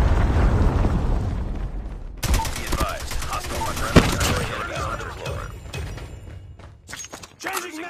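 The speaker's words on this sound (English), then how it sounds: "Predator missile inbound." Predator missile explosions and rapid gunfire in a Call of Duty game, a rumbling opening followed by bursts of shots and a sharp blast, voices talking over the action.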